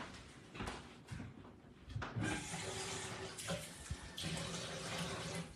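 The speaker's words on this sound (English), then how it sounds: "Let's go here and run a little water in these." Tap water runs into containers in a home kitchen, a faint splashing rush with changes in pitch as the flow shifts, plus a few clunks of handling.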